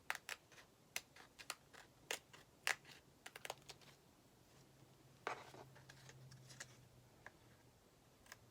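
Scissors trim a doll wig cap in a run of small, crisp snips, irregular and close, quiet, with no talk.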